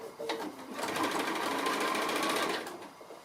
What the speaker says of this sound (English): stitching onto the binding just very close to the folded edge, and it will leave a line of stitching just inside